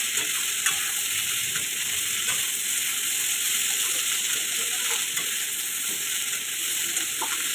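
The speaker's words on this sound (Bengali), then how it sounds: "ভালো করে নেড়ে চেড়ে একটু কষিয়ে তারপরে জলটা দিব" Greens frying with potato, salt and turmeric give off a continuous close, even sizzle throughout, with faint intermittent stirring taps over it and no talk.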